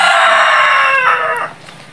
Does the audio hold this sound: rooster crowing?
yes